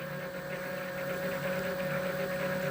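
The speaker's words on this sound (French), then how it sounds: "on entend que le moteur tourne" A steady electric motor whine hums continuously with a faint pulsing vibration, close and moderately loud.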